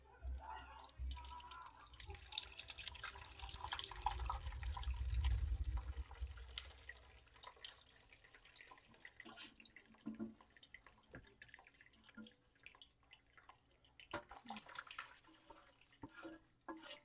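Soy bean tofu liquid pours and splashes through a strainer in a kitchen, a heavy gush swelling to a peak before easing into scattered drips and trickles, close by and fairly quiet.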